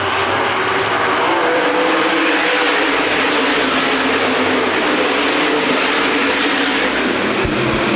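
A continuous loud roar of USA Modified race cars at Winchester Speedway, several running bunched together on the backstretch with no break in the noise.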